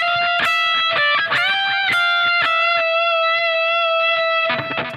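Electric guitar solo phrase from a lead guitar lesson, a run of quick picked notes, then a bent note and a long sustained note, ending in a quick flurry, loud and alone.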